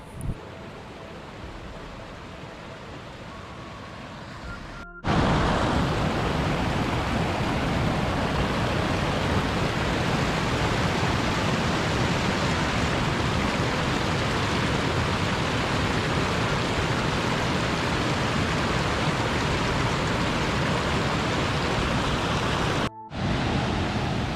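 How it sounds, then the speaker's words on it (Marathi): A waterfall roars in a loud, steady rush of broadband noise, continuous and close, with a brief cut near the start and end. "हा धबधबा आपल्याला पाहायला मिळतो"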